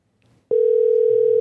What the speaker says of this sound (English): Dialing for Carter.